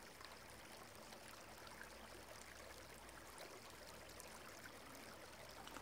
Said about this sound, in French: Vous longez ce ruisseau